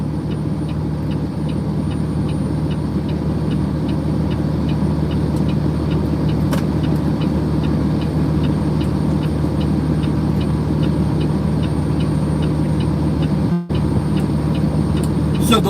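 A truck engine idles steadily and loudly on hot asphalt, a constant low rumble with a faint hum that runs almost unbroken, dipping only once briefly near the end.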